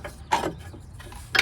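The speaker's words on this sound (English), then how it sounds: "let's see if we can pull the bolt out." A bolt being worked out of a car's suspension camber arm, giving a few short metallic scrapes and clunks close up with brief quiet gaps between them.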